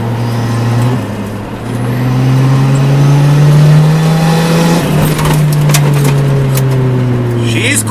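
Turbocharged budget car accelerating as boost builds, a loud close engine drone rising in pitch, a brief dip near a gear change, then pulling harder with wind and road noise; a voice speaks over it.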